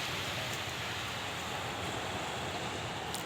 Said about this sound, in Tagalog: Maririnig mo lang yung tunog ng alon.